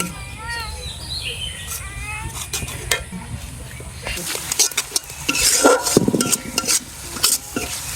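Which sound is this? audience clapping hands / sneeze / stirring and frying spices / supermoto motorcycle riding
stirring and frying spices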